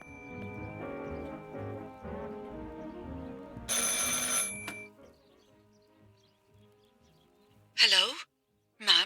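An old-style telephone bell rings in the video game Martha Is Dead, one bright jangling burst standing out after soft music fades, followed by a pair of short warbling tones near the end.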